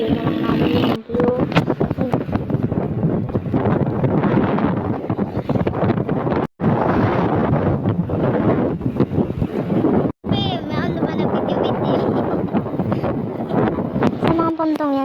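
Strong wind roars and buffets the microphone almost nonstop, with a few sudden brief dropouts, while voices murmur faintly beneath the gusting.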